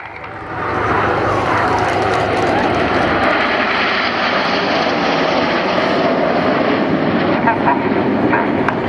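Red Arrows display jets roar overhead at the Southport Air Show while pitching up, a loud continuous jet engine rumble with a commentator talking over it.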